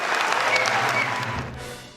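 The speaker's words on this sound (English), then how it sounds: "Ted Cruz clapping along and looking defeated and not immediately responding was probably the most devastating part in this" Audience applause at a political convention, a dense sustained clapping crowd that swells and then begins to thin and fade toward the end, with no voices above it.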